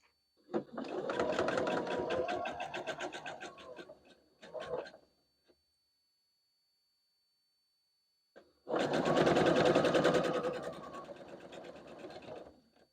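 A sewing machine runs close by in two long bursts with a short stitch between them, joining rows of a barn star quilt block made from leftover fabric pieces, with quiet pauses in between.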